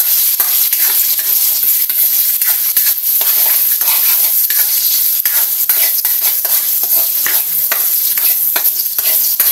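Leftover rice and dried fish (tuyo) fry in a pan, giving a loud, continuous sizzle with repeated scraping stir strokes throughout and no talking.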